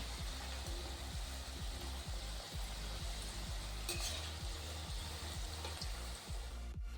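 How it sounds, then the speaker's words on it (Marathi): Samosas deep-frying in oil over a low flame give a steady, dense sizzle, with regular low thumps and clinks running through it from start to finish. "आपण समोसे तळणार आहोत"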